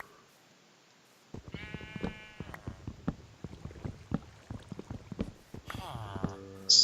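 A Minecraft sheep bleats in quick, wavering baa calls, close and clear, set among rapid clip-clop footsteps and game sounds, with a voice talking over it.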